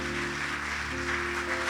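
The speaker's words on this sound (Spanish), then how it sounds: "Dale un fuerte aplauso al Señor" A church congregation claps steadily during a service, a soft continuous patter of hands over a sustained musical drone and hum.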